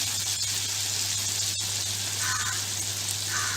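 Crushed garlic and green chilies frying in hot oil, a steady moderate sizzle and hiss with a faint low hum underneath, no talking.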